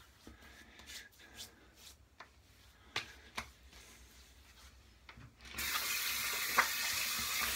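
Tap water runs steadily to rinse sandalwood shaving cream off a new razor at a sink, a loud continuous gush starting partway through after scattered faint clicks and taps of the razor.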